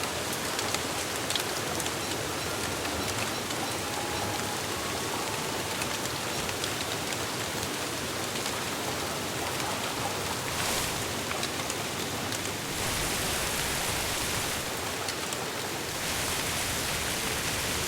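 Steady rain pours in the video game Don't Starve: Hamlet, a dense, even hiss of drops that holds throughout with no break and no voices.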